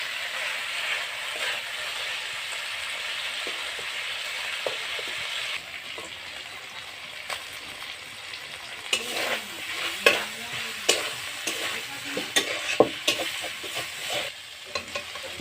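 Chicken and potatoes are stir-fried in a pan, with a soft sizzle under repeated scraping and knocking of a spoon against the pan that grows busier and more irregular in the second half.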